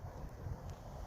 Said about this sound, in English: sorry for the wind, but it's just windy today